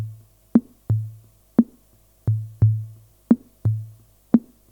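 A programmed drum machine beat in an odd time signature, alternating punchy kick thumps and snappy hits in a steady repeating pattern, clean and alone.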